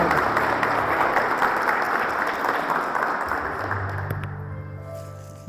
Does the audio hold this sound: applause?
yes